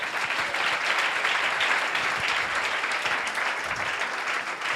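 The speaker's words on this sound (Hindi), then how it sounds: "यीशु के लिए जोरदार तालियां" A church congregation at a pastor's sermon breaks into dense, sustained applause, a steady, full wash of clapping with a faint voice underneath.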